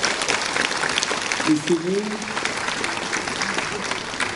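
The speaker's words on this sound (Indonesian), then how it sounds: "Kita beri tepuk tangan untuk Ibu ini." A crowd claps at a ministerial handover ceremony in Indonesia while a speaker's voice carries over the steady applause.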